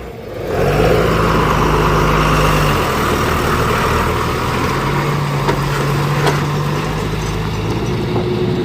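A large vehicle rumbles past on a highway bridge, its heavy low engine drone loud and close, swelling in after a brief quiet start and holding steady, with a long horn-like tone running beneath the passing roar.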